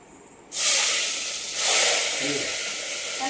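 Onions dropped into hot oil burst into a loud, bright sizzle, with a second surge as more onions go in, then a steady frying hiss.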